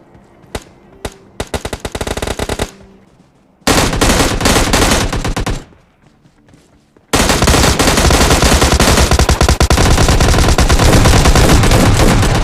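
Bursts of automatic gunfire from a firefight in the mobile battle-royale game PUBG Mobile Lite, with M416 and S12K weapons: short rapid volleys, then a brief silence, then sustained loud shooting without pause.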